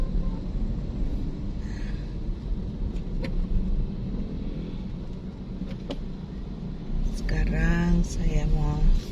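Cars crawl in a traffic jam near Center Point of Indonesia in Makassar, a steady low engine rumble close by, with someone talking over it near the end.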